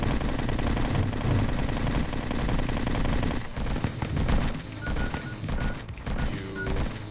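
Relentless bursts of rapid gunfire from the robot shooter NeuroVoider, dense and loud over pulsing electronic music, with a thinner stretch of shots partway through.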